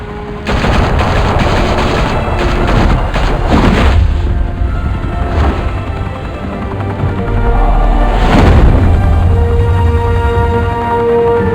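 Rapid gunfire from Batman: The Telltale Series, with dense bursts of automatic shots and loud booms in a sustained, chaotic firefight.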